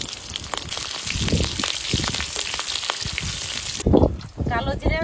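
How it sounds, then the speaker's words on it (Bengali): Black cumin seeds and slit green chillies frying in hot oil, a steady close sizzle with crackling bursts that swells near the end; some stirring or pan clatter mixes in. "মাছের ঝোল রান্না করার জন্য তেলের উপর দিয়ে দেবো কালো জিরে আর কাঁচা লঙ্কা চেরা।"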